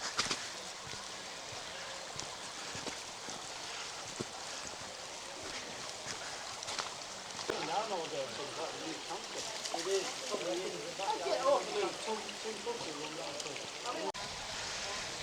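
Water flows out from under the ground at the base of Malham Cove, a continuous outdoor rush and babble mixed with wind buffeting the microphone, swelling slightly toward the end.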